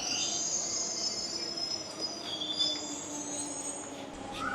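A Delhi metro train rolls past at steady volume, its wheels giving a continuous rumble with high squealing tones drifting over the top, with no talk.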